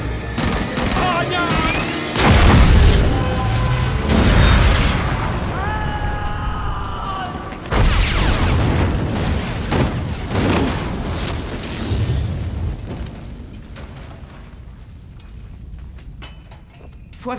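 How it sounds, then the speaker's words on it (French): A big film-scene explosion with a heavy boom and a long roiling rumble, followed by a second blast, with shouting and agitated talk mixed over the chaos. "Ça va exploser, vite!"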